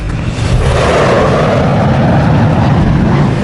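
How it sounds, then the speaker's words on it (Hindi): Jet planes in a 1940s wartime setting roar overhead, a loud, dense and unbroken rushing drone that fills the whole stretch without letting up. "हमारे जेट प्लेन के चारों तरफ हैं।"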